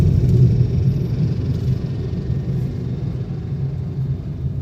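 Maruti WagonR AGS 2023 automatic car shifting down from fourth to third gear, a steady low engine and road rumble heard from inside the cabin, moderately loud, with no talk.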